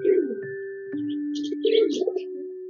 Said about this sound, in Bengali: এই কবুতর, এই দুইটা নতুন জোড়া।